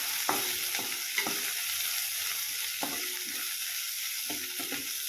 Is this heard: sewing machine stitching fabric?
no